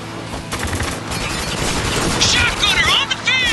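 Dense bursts of automatic gunfire and heavy impacts rattle continuously through a firefight in the video game Spec Ops: The Line, loud and close, with soldiers shouting over the shooting.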